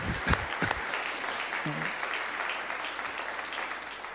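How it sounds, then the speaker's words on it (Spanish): Applause from a church congregation during a Spanish-language sermon, a steady dense clapping that fills the space throughout, with a brief voice rising over it near the start. "Demos ese aplauso a Jesús por ello."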